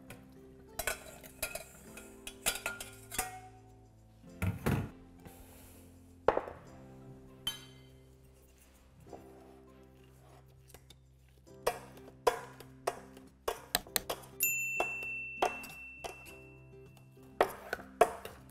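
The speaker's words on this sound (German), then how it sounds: "dann zurück in den Topf geben und dann stampfen wir sie." Boiled potatoes being mashed in a pot, with irregular thumping and scraping strikes of the masher against metal, close and clattery, with quiet pauses between bursts.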